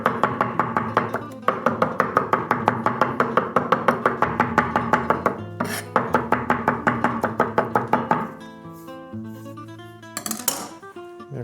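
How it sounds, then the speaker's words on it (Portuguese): A knife chops ingredients for mayonnaise on a board, rapid even thuds in steady bursts with brief pauses, ending in slower scattered cuts and a clink, close and clear with no speech. "A gente vai cortar a la churrasqueiro mesmo, não precisa ser muito picado."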